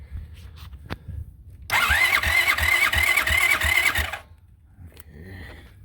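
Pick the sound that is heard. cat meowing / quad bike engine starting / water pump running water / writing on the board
quad bike engine starting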